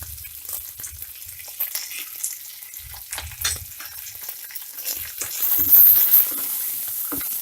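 Curry leaves and peanuts crackle and sizzle in hot oil for lemon rice, a steady dense fry broken by stirring scrapes and bursts of spattering that swell louder toward the end.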